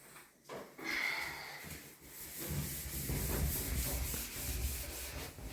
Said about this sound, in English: I'm gonna have to use the scrubby again and then take the cloth to wipe that off